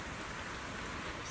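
Rain in a Zenless Zone Zero cutscene, a steady even hiss of falling rain on surfaces, continuous and fairly close, with no speech.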